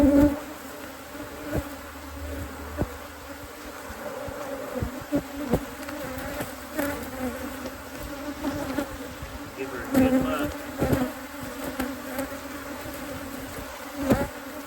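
Bees buzz loudly and continuously in an open, defensive hive being split for requeening, a dense close drone with individual bees zipping near, along with occasional knocks and scrapes of hive boxes.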